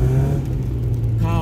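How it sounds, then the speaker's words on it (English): A 1996 Fiat Punto Cabrio 1.6i soft-top convertible drives with its engine giving a loud, steady, low hum and a slight shift in tone near the end. "I like to put the windows down, as you know, to hear the sound that this car makes"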